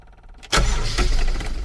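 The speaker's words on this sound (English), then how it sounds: "It's a fully electronic generator, and it is a full cold start." Marine generator on a Nordic Tug 37 boat doing a full cold start: a quiet lead-in, then a sudden loud catch at about half a second and a steady, close, full-throated run for the rest.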